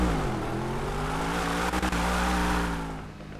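A car engine in the GTA video game, revving steadily with a strong low drone and rising harmonics, loud and close and heard alone with no talk, easing off toward the end.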